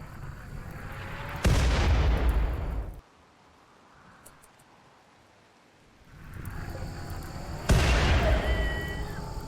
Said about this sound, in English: Lyons hops on the mortar and fires at the smoldering hull.